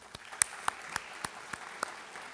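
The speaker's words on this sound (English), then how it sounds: "I want to give all of our regional students a round of applause one more" Sparse, distinct claps at a high school career and technical education completers ceremony, a handful of people clapping in an even rhythm, fairly quiet and spaced about a quarter second apart.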